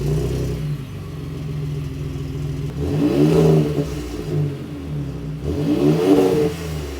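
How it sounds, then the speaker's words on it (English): A Ford Raptor pickup truck with aftermarket dual exhaust idles with a deep exhaust rumble, then revs hard twice, each rise and fall loud and throaty. "we switched this exhaust out, and I will show you guys what that sounds like now"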